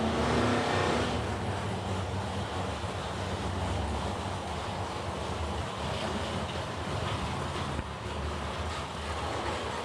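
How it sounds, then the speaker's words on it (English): No-box class drag racing cars roll up to the starting line at a drag strip in Edmonton, producing a loud, continuous engine rumble and roar throughout, with no talk. "first pair of boxcars. Rolling up to the starting line."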